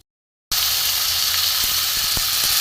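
After half a second of silence, whole cumin seeds, dried chilli and bay leaf hit hot oil and sizzle loudly and evenly, with a few faint pops and crackles.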